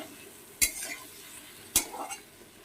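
Spices being stirred and fried for a fish head curry with taro, a faint background sizzle broken by two sharp scraping clinks of a spoon against the pan.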